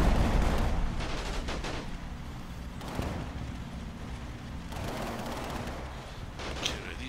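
Rattling bursts of small-arms and machine-gun fire crackle through a WWII tactics video game battle in the Stoumont area, repeated volleys over a continuous rumbling battlefield background.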